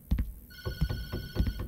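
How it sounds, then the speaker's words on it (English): An electronic telephone bell rings in the TattleTail video game, a repeating ring at moderate level alongside soft thumps and background game noise. "We're gonna not answer the phone. I'm going to ignore the demon phone."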